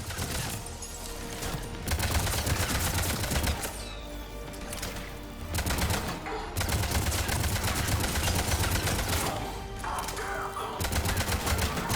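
Sustained automatic gunfire pounds an escape pod in Mass Effect Legendary Edition, loud continuous volleys broken by several brief pauses across the stretch.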